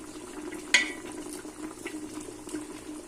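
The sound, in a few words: mutton boiling in a pot for biryani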